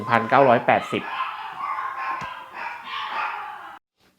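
A dog barks loudly several times in a quick burst at the start, then someone talks on while a barking outburst trails off into the background.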